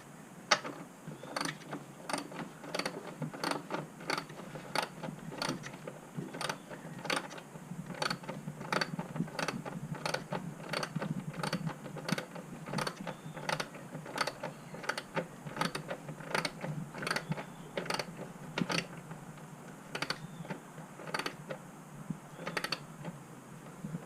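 Rapid clicking of a ratchet wrench tightening bolts while replacing the oil pressure sending unit on a 2013 Jeep Wrangler, a steady run of close, sharp clicks repeating throughout with no talk.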